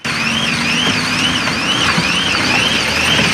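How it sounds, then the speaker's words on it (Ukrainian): A faulty railway crossing signal gives a false alarm, sounding as a loud, repeating electronic warble that rises and falls in a steady cycle, with traffic rumbling underneath. "Як з'ясувалося, сигналізація спрацювала хибно."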